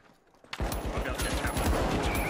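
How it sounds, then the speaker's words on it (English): Sustained automatic fire from a deployed sentry gun in the shooter game The Finals, breaking out suddenly after a quiet moment and continuing as a loud, rapid, steady rattle. "My sentry gun just engaged someone above you, Matt."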